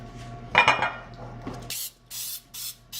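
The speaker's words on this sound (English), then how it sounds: "So we're going to put our baking spray." A few metallic clinks of a bread pan being handled, then three short hissing bursts of baking spray, close and fairly loud, with a pause between each.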